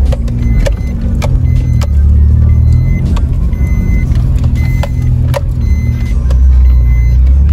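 A Maruti Swift hatchback on a road trip climbs a slope, its steady engine drone and road rumble loud and continuous throughout, with faint clicks and rattles from inside the cabin.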